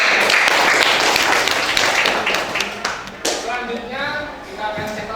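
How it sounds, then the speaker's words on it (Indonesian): Classroom applause for a student group in an Islamic religious education class, a burst of clapping and tapping that fades after a few seconds, with a voice speaking over the end. "beri tepuk tangan untuk kelompok."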